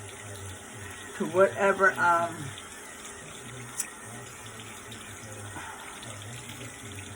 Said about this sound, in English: you can go ahead and add a little more water